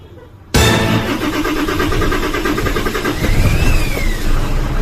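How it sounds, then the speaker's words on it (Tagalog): A truck engine, with its battery just reinstalled after a check-engine fault, cranks and catches abruptly, then settles into a loud, close running rumble with a couple of rising revs toward the end. "Start natin truck ko. Na-RPM yun."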